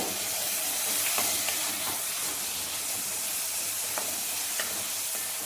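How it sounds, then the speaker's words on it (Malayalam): Tomatoes drop into a hot pan and are stirred while cooking Tamil Nadu style carrot kootu over a low gas flame. A soft, steady sizzle and hiss runs throughout, with a few light stirring taps and no talking. "ഇനി ഇതിലേക്ക് നമ്മളെടുത്ത് വെച്ച തക്കാളി ഇടുക."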